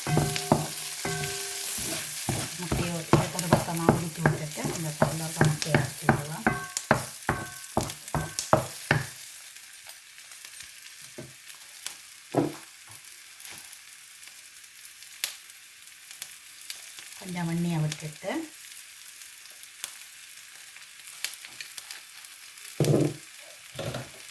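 Capsicum and onion sauté in a pan for noodles, with dense stirring and scraping for the first nine seconds, then quieter sizzling broken by occasional stirs and clatters.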